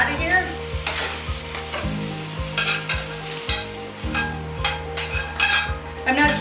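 Undrained taco meat fries in a pan with a continuous close sizzle, broken by repeated scraping stir strokes and occasional soft clinks.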